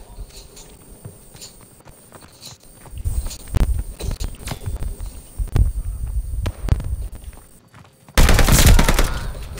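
Gunfire in Call of Duty: Vanguard, heard as scattered shots and short bursts over a low rumble of in-game ambience and movement, followed by a louder, denser burst near the end.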